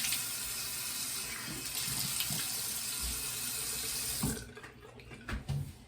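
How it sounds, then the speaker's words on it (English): A bathroom tap runs steadily into a sink for rinsing after a shave, a loud continuous splashing flow that cuts off near the end, followed by a few small knocks and drips. "All right, let me rinse up here."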